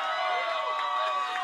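A crowd at a rap battle cheers and shouts with steady energy, a dense wash of voices that holds throughout.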